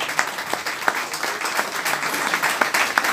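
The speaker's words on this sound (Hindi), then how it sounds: "उनके लिए भी जोरदार एक बार ताली हो जाए।" Audience applauding at a bank employees' federation birthday celebration, steady crowd clapping with a few sharper individual claps standing out, continuous and moderately loud.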